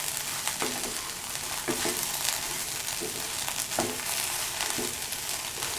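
Brinjal (eggplant) pieces frying in oil in a pan, steady crackling sizzle throughout with several soft scraping stirs at intervals, close and moderately loud, no voices.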